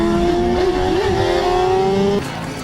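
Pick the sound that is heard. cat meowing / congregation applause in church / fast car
fast car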